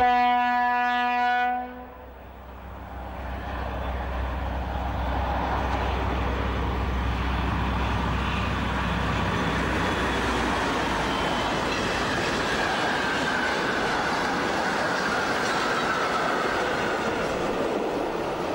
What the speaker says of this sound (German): Das dumpfe Brummen ist schon zu hören, lange bevor der Zug zu sehen ist.